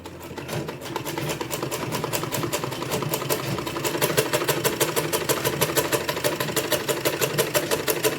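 A sewing machine runs steadily, stitching small cut salwar pieces onto larger panels, its fast needle clatter rising slightly after the first second and continuing evenly throughout with no talking.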